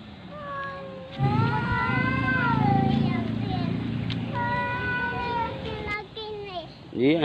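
Domestic cats fighting at close range, with drawn-out rising and falling meows and yowls that overlap in loud bursts, while a person talks and shoos them over the noise.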